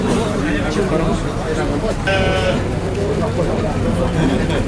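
A sheep bleats amid a noisy livestock market, with people talking and crowd babble all around.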